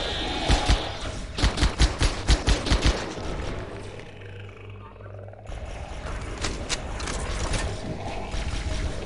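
Rapid bursts of gunfire ring out in the Halo SPV3 game, a dense string of sharp shots in the opening seconds, then a lull with a low rumble before more scattered combat noise returns.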